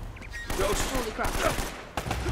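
Enemy gunfire in the video game Uncharted: Drake's Fortune, a dense stretch of rapid automatic shots and bursts crackling continuously, with short gaps and in-game sound mixed in.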